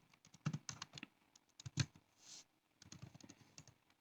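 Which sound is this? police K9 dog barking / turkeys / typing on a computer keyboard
typing on a computer keyboard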